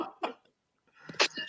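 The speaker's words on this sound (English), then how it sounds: "You can't be in here coughing and Bringing them virtual germs in there." A person coughs twice in quick bursts separated by a brief silence, close and moderately loud, in a late-night setting.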